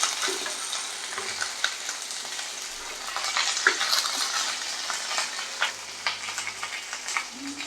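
Garlic and curry leaves fry in oil, a bright steady sizzle overlaid with scraping stirs and small ticks of the spoon against the pan, close and without speech.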